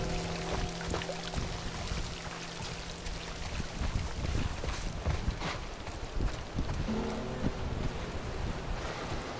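Heavy rain pours steadily at a hydroelectric dam in the video game The Last of Us, a dense continuous wash of water noise with no voices.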